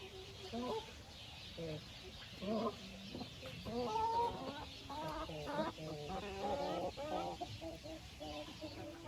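Recently moulted laying hens cluck and call repeatedly, close by, with a steady background hum and someone speaking intermittently in Russian over them.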